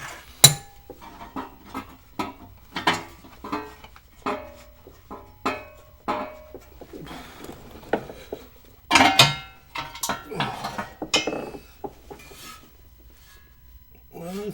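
A metal oil deflector shield held by 13 mm nuts being taken off a 2000 Chevy Tahoe, heard as scattered close metallic clinks, taps and scrapes of metal parts being handled, with someone talking between them.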